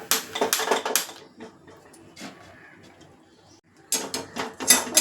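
Watermelon and sunflower seeds dry-roast in a pan, rattling and scraping in loud clattering bursts at the start and end with a quieter stretch between.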